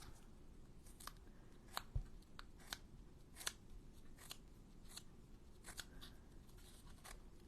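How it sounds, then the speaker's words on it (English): Scissors snip through cardstock paper in a series of short, crisp cuts spaced irregularly, quiet and close in an otherwise still room. "Well, maybe if I tear it with scissors."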